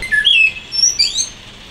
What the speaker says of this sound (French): Le merle, noir.